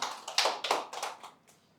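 Audience at a Hindi poetry open-mic event clapping after a performance, a short burst of hand claps that thins out and fades over under two seconds, no talk.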